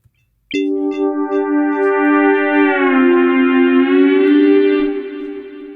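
Sustained Amapiano synth keys sound a bright chord that begins abruptly and then bends and wobbles in pitch under an oscillating effect, loud and isolated for about five seconds.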